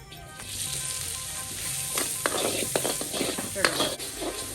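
Cheese pork balls stir-fried in a pan give a steady, close sizzle throughout, broken by scattered sharp scrapes and clatters of stirring, with faint voices in the background.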